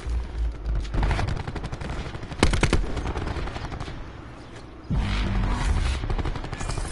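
Rapid automatic gunfire in Black Ops 4 rattles in close, sustained bursts with loud crackling shots. One sharp burst stands out, then a heavier volley follows, with no talking.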